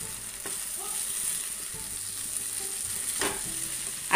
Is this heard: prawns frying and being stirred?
yes